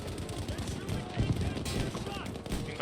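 Gunfire in the World War II shooter Battlefield V, a dense crackle of rifle and automatic shots close by, mixed with battlefield noise while players talk over it.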